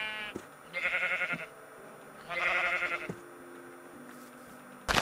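A sheep in the video game Minecraft bleats twice, each a drawn-out, wavering call lasting under a second, clear and close with quiet gaps between.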